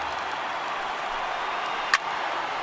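A stadium crowd of over 39,000 on its feet at a baseball video game, making a steady, even roar of cheering and applause throughout, with a single brief sharp clap near the end.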